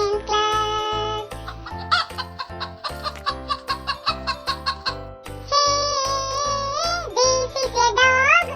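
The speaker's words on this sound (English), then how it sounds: "This is a hen." A hen clucks in a series of short, rhythmic clucks over cheerful background music in a children's animal-sounds lesson.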